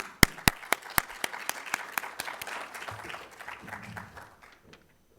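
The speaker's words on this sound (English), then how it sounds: "let's give Hailey a round of applause as she comes up to the stage" An audience applauds as a student speaker comes up to the stage at an evening public speaking showcase, opening with a few loud separate claps before a steady round of clapping builds and then fades out.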